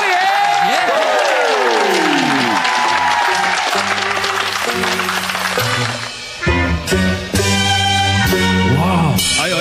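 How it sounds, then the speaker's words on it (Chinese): A studio audience applauding for a variety-show performer, with sustained clapping throughout and a loud music track and sound effects playing over it. "掌声鼓励鼓励"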